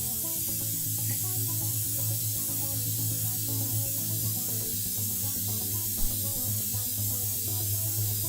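An airbrush sprays paint in a steady, continuous hiss for several seconds, close and even, with a low hum running underneath.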